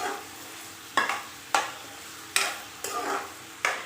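Onions frying to light golden brown in a pan for street-style fried urad dal, a soft steady sizzle punctuated by five sharp scrapes of a spoon stirring against the pan.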